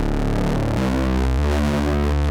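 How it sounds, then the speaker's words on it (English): A Behringer Model D analog synth runs square and sawtooth waves through overdrive, producing a loud, thick, buzzy low tone that steps down in pitch across a few sustained notes. "where it's at with the square and sawtooth, it's pretty buzzed out already"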